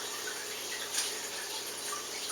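Soaked rice for homemade sake being swished and mushed by hand in a bowl of water, a soft, steady wet sloshing with faint trickles, close and continuous with no talk.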